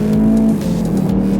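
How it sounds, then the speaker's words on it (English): A car rolls on from 50 to 100 km/h up a highway on-ramp, its engine note loud and close, a strong droning hum that shifts pitch partway through the short burst of acceleration. "Rolling on from 50 to 100 kilometers an hour"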